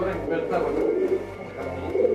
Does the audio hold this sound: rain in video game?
no